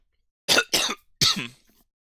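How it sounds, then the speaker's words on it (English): Three harsh coughs close by, two quick ones followed by a slightly longer, rougher cough, with silence around them. "bit of residual cough from my trip"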